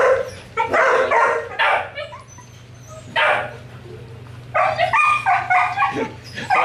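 Four-week-old puppies yip, bark and whimper in several short, close bursts over a low steady background hum, with quieter gaps in between.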